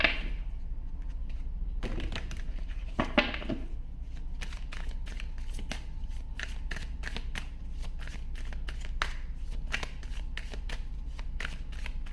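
Tarot card decks being shuffled by hand, a rapid series of crisp riffling and slapping bursts that run continuously and close up, with no talking.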